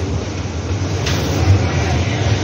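Mumbai Aqua Line 3 underground metro train in motion, a steady close rumble and hum inside the carriage with a brief hiss midway.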